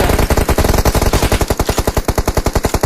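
Rapid automatic gunfire in a video game, a loud, steady stream of closely spaced shots rattling continuously for about three seconds with no pauses and no talking.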